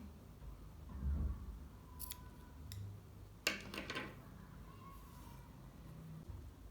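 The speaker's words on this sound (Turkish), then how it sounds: "İpimi buradan kesiyorum." Scissors cut crochet yarn during a balaclava project, giving a few faint, quick snips spread over a quiet background.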